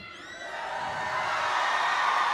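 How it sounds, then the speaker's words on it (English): A large crowd of competition teams cheers and whoops inside Hanner Fieldhouse at Georgia Southern University in Statesboro, a sustained roar that swells slightly louder and holds steady. "I think I should be able to hear a lot more cheering"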